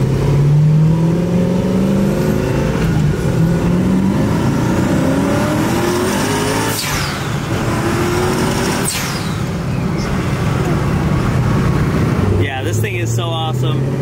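Twin-turbo LSX-powered 800 hp supercar with a Lamborghini-style gated manual transmission accelerating hard, engine note rising through several gear shifts with brief dips between pulls, loud and close, with people talking over it.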